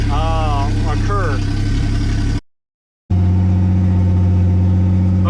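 BMW E30 engine running steadily after its ignition timing has been shifted, a loud continuous mid-pitched drone that breaks off briefly in the middle and then resumes, with a voice talking over the first part.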